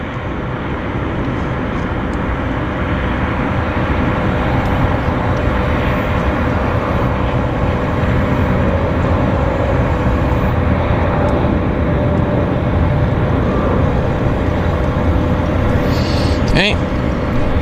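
An airplane passes at Vancouver YVR airport, a broad, steady jet roar that fills the whole span with little change in level, while people talk throughout.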